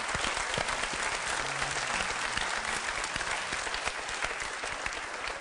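Studio audience applauding steadily at a televised TEGV charity special on Kanal D, dense clapping sustained at even loudness throughout with no one speaking.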